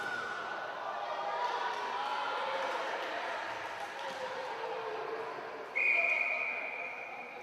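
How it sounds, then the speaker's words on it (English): A referee's whistle blows one sharp, steady tone at a ball hockey game, rising over a constant arena crowd murmur with ball bounces and play noise. "Whistle here."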